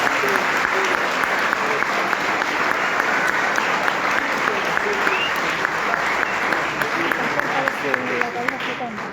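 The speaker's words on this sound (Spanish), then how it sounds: "Este aplauso ruidoso de bienvenida." Loud, enthusiastic welcoming applause rises from a church congregation, a dense, steady clapping roar with voices mixed in throughout.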